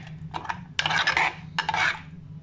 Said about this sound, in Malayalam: ഇത് നന്നായിട്ടൊന്ന് ഇളക്കി യോജിപ്പിച്ച് കൊടുക്കുക